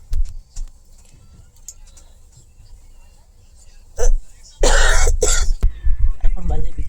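A person coughs in harsh, close bursts, one short hack followed by a longer run of coughing, indoors where an air conditioner is running on high.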